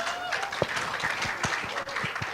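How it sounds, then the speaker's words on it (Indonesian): Applause from a conference audience at a sustainable district outlook event in Indonesia: many hands clapping in a dense, steady patter at moderate distance, with a few sharper individual claps standing out. "Tepuk tangan untuk LTKL"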